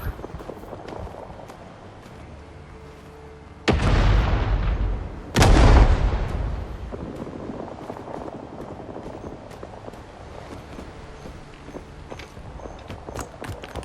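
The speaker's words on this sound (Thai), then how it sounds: "นี่คือปืนใหญ่ฐานเรานะฮะ" Two heavy base artillery blasts boom in quick succession in Rising Storm 2: Vietnam, loud and close, then fade into a softer background with scattered thumps.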